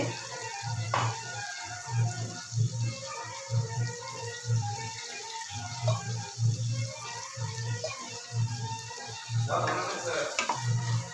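Ingredients, with broad beans for a green bean rice dish, sautéed in a pan with a steady sizzle, stirred in repeated scraping strokes up close, with a brief splash of water near the end.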